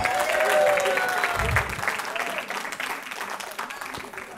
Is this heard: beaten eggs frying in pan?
no